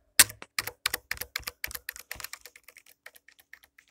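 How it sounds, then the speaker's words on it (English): Keys on a new computer keyboard typed in a steady sequence of distinct clacks, starting loud and sharp, then trailing off into softer, quicker taps. "See how these keys sound."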